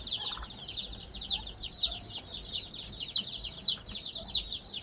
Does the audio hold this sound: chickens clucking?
yes